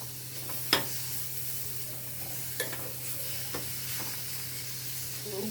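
Tuna fish is stirred in a frying pan for a tuna curry: a continuous soft frying hiss with a few light scrapes and taps of the spoon against the pan.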